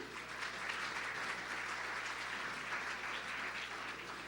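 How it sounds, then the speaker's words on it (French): Steady applause from a conference audience at a closing session, a continuous, even patter of many hands heard at moderate distance for the whole few seconds. "Vous pouvez l'applaudir aussi."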